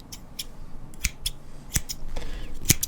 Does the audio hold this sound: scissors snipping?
yes